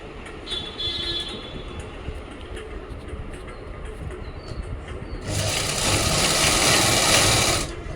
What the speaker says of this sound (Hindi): ये ऐसे रखो नीचे वाले कॉर्नर को मशीन के नीचे, और बिल्कुल ऐसे इसके ऊपर सिलाई लगा